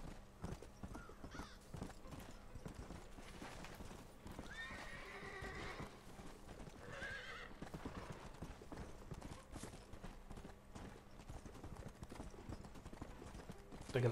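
A galloping horse in Red Dead Redemption pounds out continuous rhythmic hoofbeats at moderate loudness, with whinnying breaking in a couple of times along the way.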